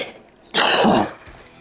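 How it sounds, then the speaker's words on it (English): A single loud, close cough, a harsh burst lasting about half a second, from someone out bass fishing on Lake Chickamauga, followed by quiet. "Excuse me for that cough."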